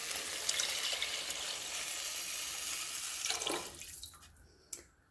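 Water runs in a steady pour into a pot of shell and potato soup for a few seconds, then cuts off, leaving a brief drip or splash in the quiet that follows.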